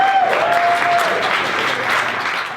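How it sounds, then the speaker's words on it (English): An audience at an awards ceremony breaks into loud, dense applause that holds steady for a few seconds, close and full, with a faint tone ringing early on. "can we give a round of applause also to our"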